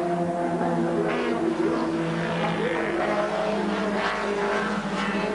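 Works touring cars race through the right-hander at Stowe during the 1987 RAC Tourist Trophy at Silverstone, loud engines droning and shifting pitch as the cars pass close by, the sound steady and dense throughout.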